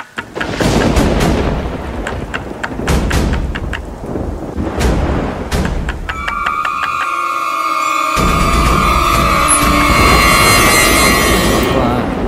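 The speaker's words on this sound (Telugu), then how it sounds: "బయట మంచి వర్షం? విపరీతమైన వర్షం." Heavy rain and a thunderstorm in a Telugu movie scene, a steady loud downpour with rumbling thunder and wind, mixed with dramatic music and voices over the roar.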